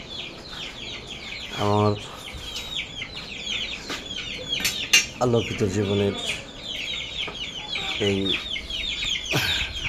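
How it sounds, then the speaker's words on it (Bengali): Brahma chickens cluck and squawk close by in several short bursts, while someone talks over and between the calls. "এই ব্রাহ্মা মুরগি আমি 3টা কিনছি।"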